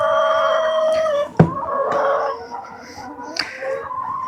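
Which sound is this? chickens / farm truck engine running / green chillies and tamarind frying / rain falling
chickens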